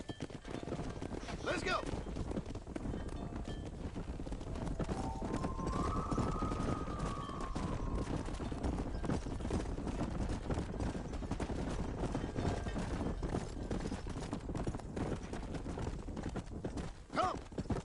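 In the video game Red Dead Redemption, horse hooves clop in a constant galloping patter, with a short whinny and a shouted voice over the steady drumming.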